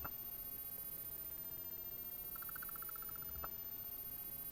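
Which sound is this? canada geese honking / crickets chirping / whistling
crickets chirping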